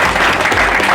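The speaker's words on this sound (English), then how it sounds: "Let's applaud Nikhil for his" An audience breaks into a brief, dense burst of applause for a participant, with the clapping loud and steady for about a second.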